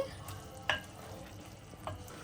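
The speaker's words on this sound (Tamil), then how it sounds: "இந்த பொறிச்சு வச்ச வெண்டிக்காய் பெண்டி கத்திரிக்காய் எல்லாத்தையும் இந்த மாதிரி போட்டு கிண்டிக்குவோம்" Fried okra and brinjal get stirred together in a pan over a soft, low sizzle, with two brief scraping clinks of the spoon; quiet and close.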